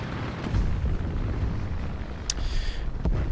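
A Panzer III tank gun fires in a video game, with a shell impact bursting over a constant low battlefield rumble, then a second sharp crack near the end.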